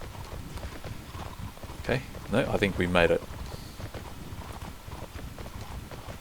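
Horse hooves clip-clop steadily in the online game Mortal Online as a mount travels, a continuous rhythmic patter under a voice that briefly rises in the middle of the clip.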